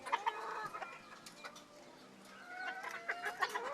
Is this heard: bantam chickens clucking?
yes